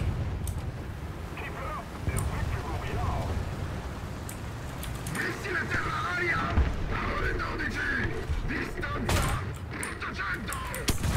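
Tank ammunition exploding amid gunfire in a World War II tank battle game, with rolling bursts, booms and scattered shots across a long, busy stretch, a voice talking over the action.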